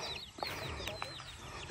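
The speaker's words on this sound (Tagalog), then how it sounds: "Tapos may mga manok din, oh. Native chicken." Native chickens on a farm cluck in short, soft calls against a steady outdoor background, with a few sharper chirps standing out now and then.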